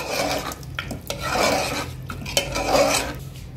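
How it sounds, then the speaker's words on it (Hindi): Mango and mutton curry stirred with water in a pot, a spoon scraping and sloshing through it in steady rough strokes with occasional metallic knocks against the pot, close and fairly loud, with no talk. "इसे अच्छे से मिक्स कर लीजिए।"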